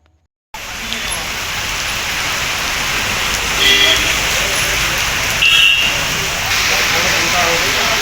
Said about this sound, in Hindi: जमशेदपुर समेत पूरे कोल्हान में सुबह से ही लगातार बारिश हो रही है।